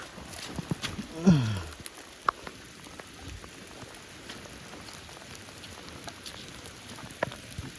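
Steady patter of rain falling on a jungle at night, with scattered sharper drop taps, and a brief voice sound near the start.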